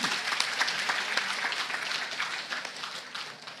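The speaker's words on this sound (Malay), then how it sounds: "Tepuk tangan." Crowd applause at a Perikatan Nasional political rally in Kangar, Malaysia, a dense steady wash of many hands clapping that carries on throughout with no pause, at moderate volume.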